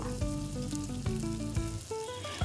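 Masala with chopped tomato and turmeric powder fries in a pan for Bengali chana masala, giving a soft, continuous sizzle under steady tonal background music, with occasional stirring knocks.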